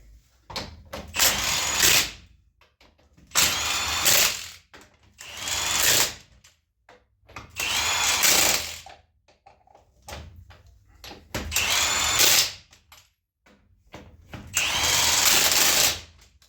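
An impact wrench fitted with a torque stick runs on wheel lug nuts during Dana 60 axle work on a salt belt truck, giving six loud, rattling bursts of about a second each, separated by short pauses.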